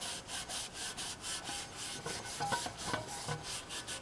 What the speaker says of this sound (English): I'm just rubbing my medium on my entire piece